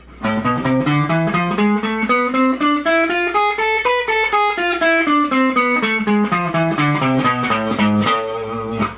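A guitar plays a harmonic minor scale slowly, one note at a time, climbing steadily and then descending, each note ringing clearly with an exotic, minor sound.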